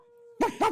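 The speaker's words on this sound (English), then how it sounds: "you recognize this bark" Two sharp, loud dog barks in quick succession, used as a sound effect in a tabletop roleplaying game, following a steady low hum.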